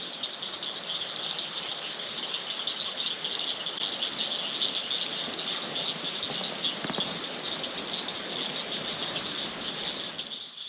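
A dense, continuous trilling chorus of tree frogs or insects rises near dusk at Colorado Bend State Park, steady and high-pitched over faint running water, with no voices.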